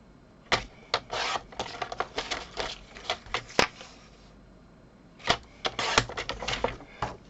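Card stock is cut for an album cover with a run of sharp, irregular cutting and clicking sounds close by, a pause midway and then another quick burst.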